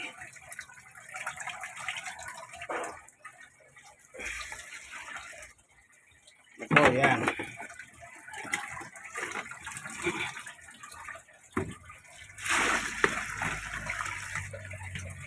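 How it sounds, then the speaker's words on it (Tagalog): Water splashes and pours in uneven bursts, running into a laundry basin with gurgling surges and brief pauses, fairly close by. "dadagdag tayo ng tubig"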